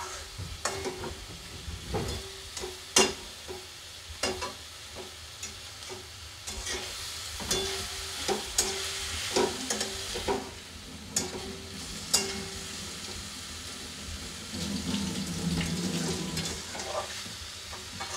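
Vinegar goes into vegetables frying in a pan with soy sauce, giving a soft steady sizzle broken by repeated scraping stirs and utensil clicks, swelling into a brief louder hiss near the end.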